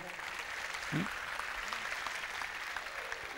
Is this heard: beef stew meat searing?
no